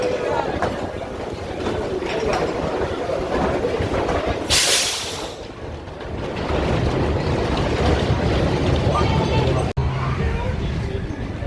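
Grand National wooden roller coaster at Blackpool Pleasure Beach, a steady loud rumble and rattle of the cars on a rough track with wind noise throughout and a brief hissing surge in the middle.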